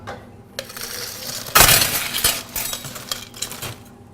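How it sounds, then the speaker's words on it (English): Ice cubes drop into a highball glass while a cocktail is prepared, a sharp cluster of clinks and clatter after a few lighter taps, then scattered rattling as the cubes settle, close and loud. "Next, we're going to ice down our glass over here."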